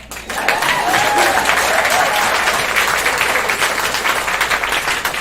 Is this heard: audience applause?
yes